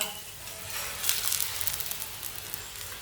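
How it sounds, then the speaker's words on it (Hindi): Mooli paratha, a radish-stuffed flatbread, fries on a hot pan with a steady close sizzle and crackle that rises briefly as it is turned over, with no one speaking. "ऐसे उल्टाते हुए सब पका लेना, इसे जलने नहीं देना।"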